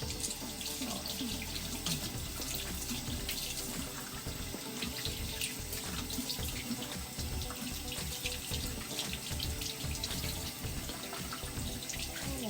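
A Chikuhodo makeup brush is rinsed under a steady stream from a tap, running water splashing continuously and loudly into a sink for the whole stretch, with no talk.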